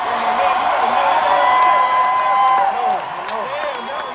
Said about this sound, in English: they cheer Chappelle as if the whole thing was real